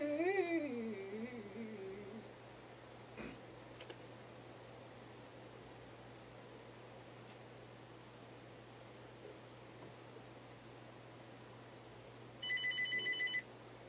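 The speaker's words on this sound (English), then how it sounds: "Is that Lyric on the phone?" A telephone ringing in a quiet studio room, several warbling electronic rings at the start followed by a softer ringtone burst near the end, with faint background hiss between.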